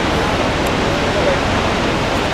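A waterfall in a Norwegian fjord pours with a loud, unbroken roar of falling water, close and steady with no pauses.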